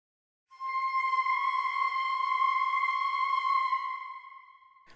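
A sustained, dense orchestral quarter-tone chromatic cluster sample enters abruptly, holds steady with a shimmering, slightly dissonant tone, then fades out.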